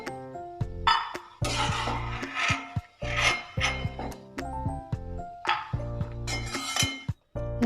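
Crisp fried peanuts are scraped and tipped from a pan into a bowl with a metal spoon, giving repeated rasping scrapes and clinking knocks of metal on metal in short irregular bursts, close and fairly loud.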